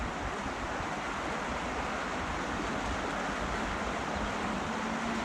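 A waterfall on the River Blackwater gives off a continuous rushing roar of falling water, steady and fairly near, with no voices over it.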